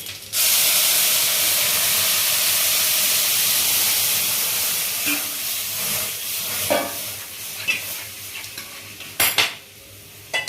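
Lentils hit a pan of hot oil with turmeric and sizzle in a bright, steady hiss, while a spoon scrapes and clinks against the metal pan near the end.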